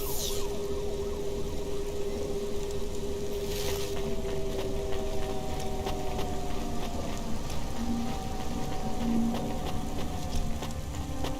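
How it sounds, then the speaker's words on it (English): Steady rain hisses through the Cloudpunk video game city, a soft constant wash layered with faint tonal hums and a couple of brief noise bursts, with no voices. "Don't let all the rain get you down."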